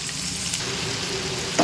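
Raw prawns sizzle steadily in hot oil in a home kitchen, a close, continuous crackling fry with a brief stir or clatter near the end.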